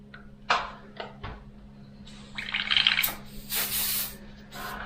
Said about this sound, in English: And the actual spraying will be exactly the same as the 270.